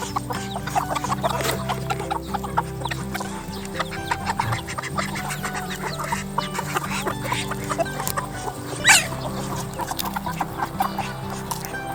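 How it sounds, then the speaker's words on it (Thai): Betong breeding chickens in a farm pen cluck and murmur continuously, several birds overlapping at close range, with scattered scratching and one louder squawk near the end. "พ่อแม่พันธุ์นะครับของฟาร์มไก่ของเรา"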